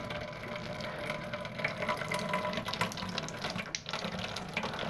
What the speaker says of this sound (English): Okay, so now we're going to turn on the water, and I'm going to get a little stream going.